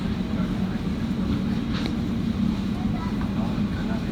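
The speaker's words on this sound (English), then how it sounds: "Train to Abbey Wood via Canary Wharf" Elizabeth Line train running through London toward Abbey Wood, a steady low rumble and rolling hum of the carriage in motion, with faint voices in the background.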